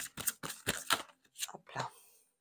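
Tarot cards drawn and laid down one after another in a horoscope reading, a series of soft papery slaps and shuffles in an irregular rhythm, close and fairly quiet.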